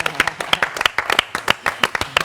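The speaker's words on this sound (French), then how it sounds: "que je vais vous demander d'applaudir." An audience claps in scattered, uneven beats, a modest group of hands heard up close rather than a large roaring ovation.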